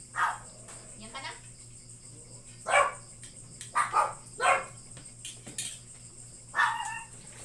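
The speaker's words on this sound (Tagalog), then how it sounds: "Yung mga aso, nakakakita lang ng anino, tatahol ka agad." A dog barks several times at irregular intervals, sharp and fairly close, while insects chirp steadily in the background.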